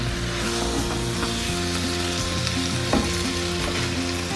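Chicken qeema with mushrooms sizzles steadily as it is fried and stirred in a pan. The sizzle is loud and close, with occasional scraping from stirring and no voices.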